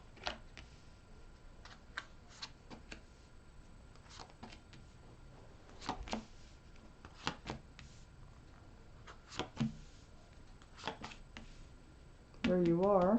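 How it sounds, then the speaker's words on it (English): Tarot cards are shuffled by hand in a run of quick, soft riffling taps and flutters close to the microphone, ending as a voice begins speaking. "One more shuffle for Taurus."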